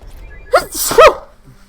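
A single loud, close sneeze in two quick bursts, heard alone against a quiet background.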